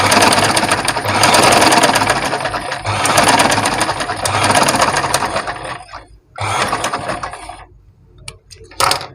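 A sewing machine stitches a straight seam in loud, rapid mechanical bursts, running steadily, pausing briefly, then starting again close by without talk.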